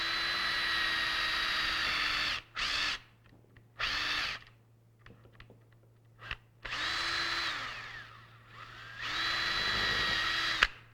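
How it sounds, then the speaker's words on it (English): A power drill boring the first hole through a Kydex sheath using a drill guide, several close whining bursts that rise and cut off, separated by quiet pauses. "we're just drilling the first hole here"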